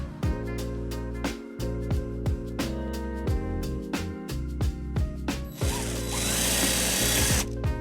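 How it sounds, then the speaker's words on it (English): A power drill whirs and clicks in short repeated bursts, then a harsh, sustained grinding of drilling into the metal frame of a 2017 Nissan Sentra close up. "we'll go ahead and drill a hole on the right side"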